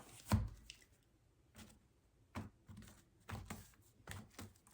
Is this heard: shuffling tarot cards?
yes